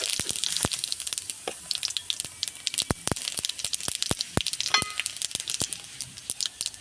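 Whole spices, including dried red chilli, cinnamon, cardamom, cloves, bay leaf and cumin, hitting hot oil in a pan for an egg and potato curry: a steady crackling sizzle with many sharp pops and spits, close and fairly quiet.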